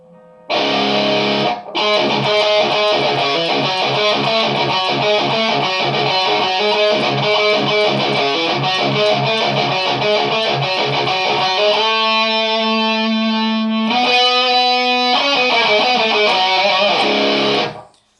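A heavily distorted electric guitar through a metal distortion pedal plays loud, dense chugging riffs with sustained crunchy chords, continuous for most of the stretch with a brief pause near the start.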